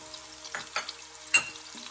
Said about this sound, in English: saute onion.